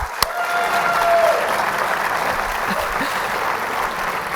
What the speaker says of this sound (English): I want to give Michael a round of applause.